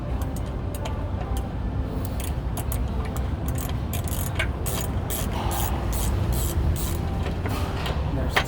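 Screw being backed out of a storefront lock cover, a steady close mechanical scraping and ratcheting texture with intermittent higher clicks, over continuous room noise.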